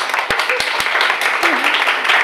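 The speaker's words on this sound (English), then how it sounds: "Can we have a big round of applause for the South Koreans" Audience at a talk on organisational learning gives a round of applause for a South Korean group. Sharp individual claps ring out near the mic, mixed with voices and room chatter.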